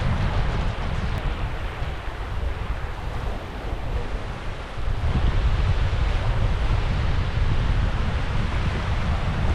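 Strong wind gusting across Choctawhatchee Bay on a cold, gray day, with surf washing in, a loud continuous rushing roar that buffets the microphone with no voices.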